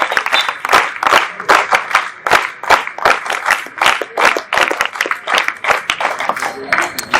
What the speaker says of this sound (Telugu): ఒకసారి చప్పట్లు కొట్టి జేజేలు పలకండి.